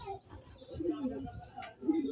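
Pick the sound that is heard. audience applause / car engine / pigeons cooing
pigeons cooing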